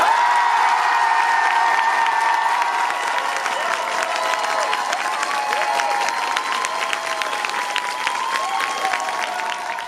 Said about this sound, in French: la foule était un peu en délire à ce moment-là